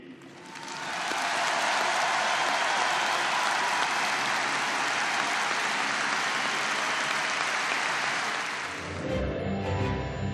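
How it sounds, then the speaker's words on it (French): A crowd at Place de la Concorde in Paris applauds for Johnny Hallyday, the clapping swelling in after a second into a broad, steady roar that holds for several seconds before fading as other sound takes over. "d'applaudir Monsieur Johnny Hallyday"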